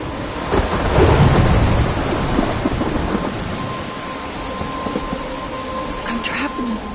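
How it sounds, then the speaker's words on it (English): Thunder rumbles loudly through steady heavy rain in a thunderstorm in the video game Life is Strange, one big roll building then fading under the constant downpour. "I'm trapped in a storm?"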